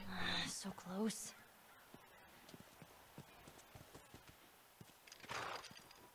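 Horse hooves clip-clop in The Last of Us Remastered, a steady run of soft, evenly spaced knocks close by, with brief voice sounds near the start and end.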